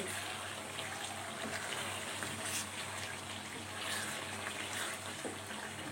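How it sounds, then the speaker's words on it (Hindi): Water pouring into a kadai to boil for rice makes a steady, fairly loud gushing splash from start to finish, close by, with no talking. "हमने पानी डाल के जो है कढ़ाई रख दी है।"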